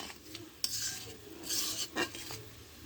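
Spice masala sautéing in a pan for tengra fish curry, a low steady sizzle with a few sharp scrapes and clinks of a spatula stirring against the metal pan, close up and with no talk.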